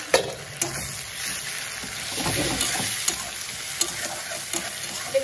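Onion and chopped tomato sizzle in hot oil in a pan while being stirred for a sea crab curry. Sharp scraping knocks of the stirring utensil come at irregular intervals over a continuous close frying hiss.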